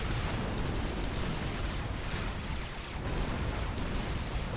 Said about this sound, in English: Mac in full retreat from those Gatling box with their rocket barrages